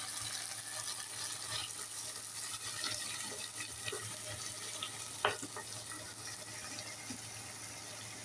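Chopped tomatoes go into a pan of sautéed onion and garlic for a Filipino upo and chicken liver dish, giving a steady, soft sizzle throughout with a brief clatter midway.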